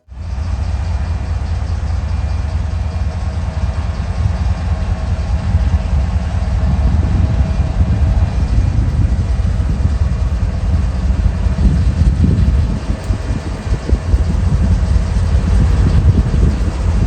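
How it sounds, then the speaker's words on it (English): Union Pacific locomotive UP 2675 rumbles steadily as it moves back to the yard to couple onto a grain train, a loud, continuous low diesel drone that swells slightly partway through, with no talking. "UP 2675 goes back to the yard to couple onto your grain train"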